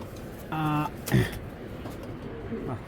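Racer pigeons give a brief, soft coo, followed by a short rough call, while someone talks nearby.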